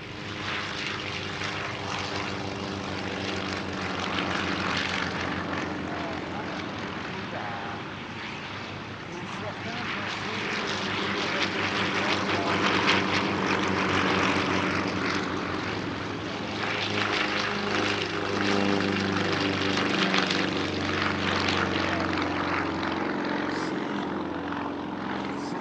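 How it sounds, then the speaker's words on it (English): Yak-50 and Yak-52 aerobatic propeller aircraft performing at the Air Legend airshow at Paris-Villaroche, a loud sustained piston-engine roar that swells and fades as the planes pass, with a voice faintly underneath. "one of the most successful aerobatic aircraft of the 1970s and 80s, the Yak-50, and its twin-seat variant, the Yak-52"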